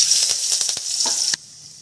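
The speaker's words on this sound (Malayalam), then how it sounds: "അതിലേക്ക് രണ്ട് വറ്റൽമുളകും കരിയപ്പലയും കൊടുക്കുക" Dried red chillies and curry leaves hit hot oil already popping with mustard seeds, tempering for a Kerala semiya upma; a loud, steady close-up sizzle with brief stirring clicks stops abruptly after about a second and a half.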